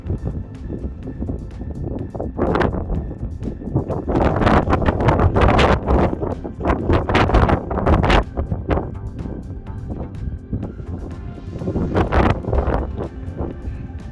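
Strong gusting wind on a mountain summit in Torridon, Scotland, buffets the microphone, rising and falling in heavy rumbling blasts with brief calmer moments between gusts.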